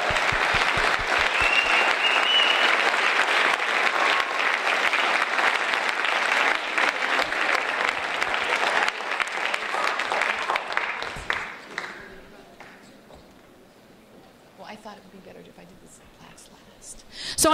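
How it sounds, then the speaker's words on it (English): Sustained applause from a spring band concert audience fills the room for about eleven seconds, dense and steady, then thins to scattered claps and fades into quiet murmur with a few faint voices. "Let's give one more round of applause for the senior."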